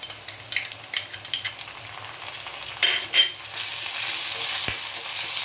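Onion and ginger-garlic paste sautéing in a pan for a Marathi-style cluster bean (gavar) dish, giving a steady close sizzle with a few scraping stirs of a spatula and no talk.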